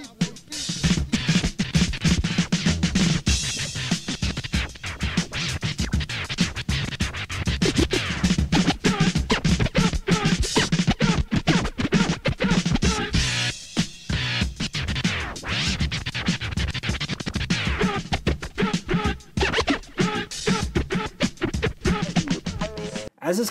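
A DJ scratches a record on a turntable in a dense, relentless flurry of rapid back-and-forth cuts and chopped fragments. The scratching runs loud and continuous throughout and is heard alone.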